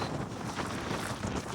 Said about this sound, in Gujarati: પવન તો જોરદાર છે ભૈયા